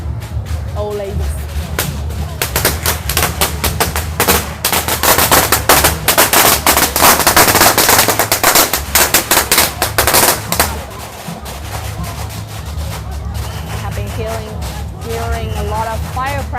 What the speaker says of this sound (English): Hearing a lot of firecracker cracking